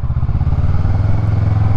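A motorcycle engine idles loud and close after being started following winter storage, a steady low throbbing rumble with slight clattery texture throughout.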